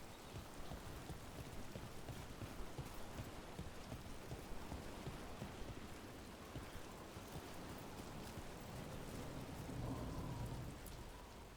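Steady downpour of rain with low rolling thunder in a fantasy video game, continuous and faint, with no talk over it.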